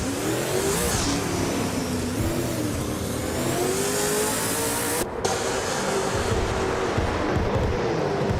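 A 2013 Holden Commodore VF race car in a racing game drives with a loud engine that holds steady and rises in pitch through the revs, with a brief break near the middle, continuous and close without talk.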